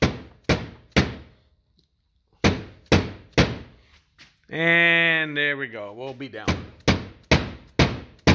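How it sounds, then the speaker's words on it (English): A rubber hammer drives a plug back down into a tube with a series of sharp, evenly spaced thunks. The blows pause while someone speaks briefly, then resume in a steady rhythm. "Now I'm going to reuse a rubber hammer. And what I want to do is drive this plug gently back down into the tube"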